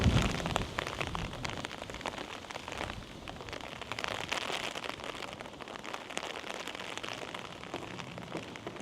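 Rain falls on garden plants and sunflowers on a windy day, a soft, dense patter of drops that continues steadily with no voices.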